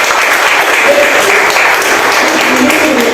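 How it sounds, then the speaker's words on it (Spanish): Loud, dense applause from a crowd at a political presentation of a libertarian group, many hands clapping continuously at an even level, with faint voices or cheers mixed into the clapping. "pido un fuerte aplauso"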